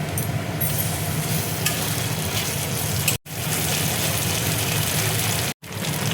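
Lightly fried onion in a pan with ginger, garlic and chili paste added and stirred, a loud, dense, continuous sizzle and hiss with two brief dropouts, no speech.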